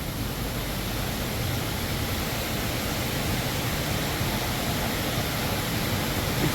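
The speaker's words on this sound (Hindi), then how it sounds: "it's the world's biggest indoor waterfall with the height of 40 metres" Rain Vortex, the 40-metre indoor waterfall at Changi Jewel airport in Singapore, roars as a steady, dense wash of falling water that fills the space evenly, loud and unbroken with no voices.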